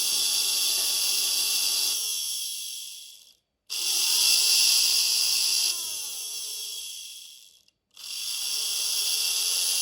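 A small electric motor in a vintage 1960s Veron Caribbean Coaster model boat runs in reverse on a 7-volt LiPo battery, giving a steady high whine in three bursts separated by brief silences, with a faint ratcheting mechanical buzz.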